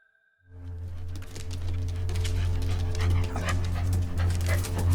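Big Rottweilers pant close by in a steady, breathy rhythm that starts after a brief silence and carries on continuously at moderate loudness.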